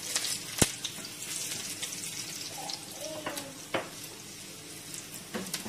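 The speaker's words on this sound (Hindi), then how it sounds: "तो जिंजर और गार्लिक को थोड़ा सा अच्छा से फ्राई कर लेंगे।" Ginger and garlic fry gently over a slow flame in a soft, low sizzle, broken by a few sharp clicks and utensil taps, with no talking.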